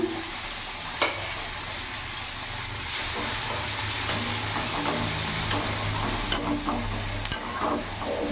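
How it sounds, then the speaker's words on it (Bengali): Chopped onion sizzles steadily in hot oil, with a few spatula scrapes and knocks against the pan. Close up, with no talking. "পেঁয়াজটা একটু ভাজা ভাজা করে নেবো"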